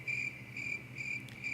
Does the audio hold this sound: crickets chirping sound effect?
yes